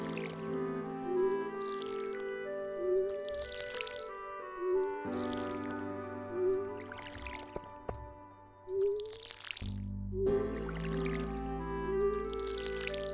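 Repeated splashy pours from a watering can onto crops in Stardew Valley, about seven short bursts at a steady pace over tinkly background music, with no voices.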